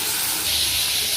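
Chopped vegetables hitting hot oil that already holds frying tomato pieces, giving a loud, close, continuous hiss and sizzle with no pauses.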